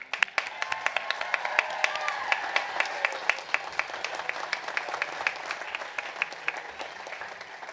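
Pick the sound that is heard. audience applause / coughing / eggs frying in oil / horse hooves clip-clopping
audience applause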